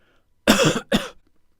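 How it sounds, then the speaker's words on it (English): A pair of loud, harsh coughs close together, heard alone against a quiet background. "use trimming to remove this cough from the recording"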